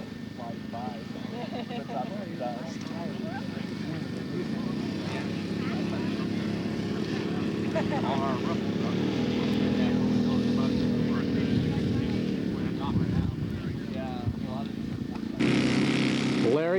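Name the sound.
scale model Sea Fury aircraft engine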